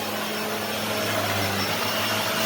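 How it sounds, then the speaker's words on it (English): A Shark Lift-Away ZU560 vacuum cleaner with a self-cleaning brushroll runs over a floor in a steady, loud motor whine with a constant hum, sustained throughout without talk. "So we're going to vacuum around it."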